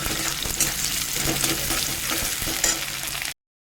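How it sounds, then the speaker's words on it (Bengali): Chopped onions fry in hot oil after garlic in a village-style kitchen, giving a dense, steady crackling sizzle with occasional stirring scrapes that cuts off abruptly at the end. "পেঁয়াজটা ভাজা হচ্ছে।"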